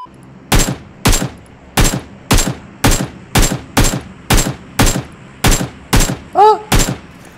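Gunfire in PUBG Mobile: about a dozen loud, evenly spaced single shots ring out one after another, each with a short tail, and a brief whistling ricochet-like chirp follows near the end.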